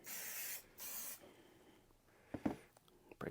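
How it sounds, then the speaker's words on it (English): An aerosol can of suede protector spray hisses in two brief, close bursts onto a suede shoe, then gives way to quiet handling noises and small knocks. "Again, quickly spray it."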